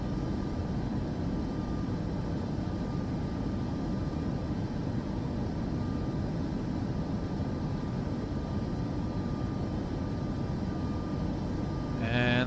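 Boeing 737 climbing out after departure in Microsoft Flight Simulator 2024: a steady, unbroken jet engine drone with a constant high whine, holding level throughout, and a short tonal chime right at the end.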